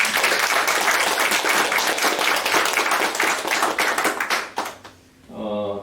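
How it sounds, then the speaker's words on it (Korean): Audience applause at a forum on disability artists, a dense burst of many hands clapping loudly for several seconds before fading into a brief voice at the end. "우리 두 분 다시 한번 응원하는 위해서 큰 박수 부탁드립니다"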